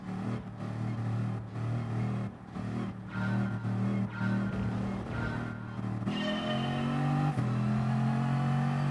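A Bugatti Veyron engine accelerates in Gran Turismo Sport, a loud, steady rising drone that climbs through gears with brief dips at each shift.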